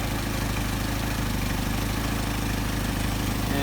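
A Mercedes 190SL engine with Solex carburetors idles steadily after adjustment, a continuous low rumble with an even pulsing throb, close and alone with no talk over it.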